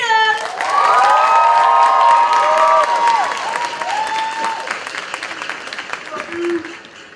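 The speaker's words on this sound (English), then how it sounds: "everyone, please give a round of applause for Brazil!" University student audience at a Latino cultural pageant applauds for Brazil, loud cheering and clapping swelling at once, with shouts and a tonal voice or music over it before the crowd noise slowly fades.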